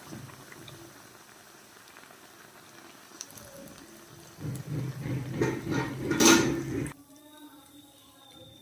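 Green chilli fritters (mirchi bajji) fry in hot oil with a steady crackling sizzle, swelling louder partway through with a clatter of utensils before dropping to a quiet hum.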